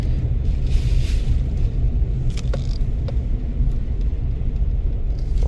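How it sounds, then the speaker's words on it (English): Heavy wind pushes against a truck driving toward the Michigan City lakefront, making a constant loud low rumble and roar inside the cab, with a few faint knocks and rattles. "The wind is just blowing the truck around."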